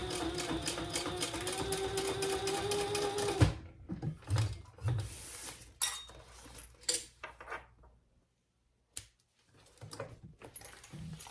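Sewing machine running steadily for about three seconds as it bastes D-rings onto a bowler bag, followed by scattered clinks, taps and handling noises, a brief near-silent gap, and a few more light clicks.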